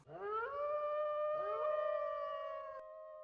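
Wolves howl in a children's audio story, long sustained tonal howls overlapping in a loud, steady chorus, one voice rising as another joins, then fading with a lingering held note near the end.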